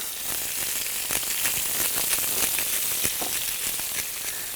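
Rabbit meat browns in a paella pan, a loud, steady close-up sizzle of frying with crackles and pops running through it, with no voices.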